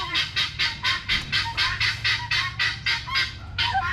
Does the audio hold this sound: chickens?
yes